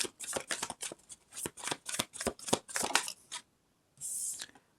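Deck of tarot cards being shuffled in close, rapid bursts of riffling and slapping for several seconds, a brief pause, then one more short riffle; no voices.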